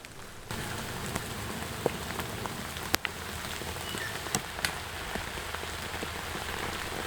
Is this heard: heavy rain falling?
yes